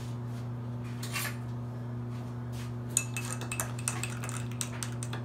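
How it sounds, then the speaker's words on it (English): A utensil stirs yeast in warm water in a jar, making faint clinks and scrapes that grow into quick light taps near the end, close under a steady electrical hum. "Stir it up."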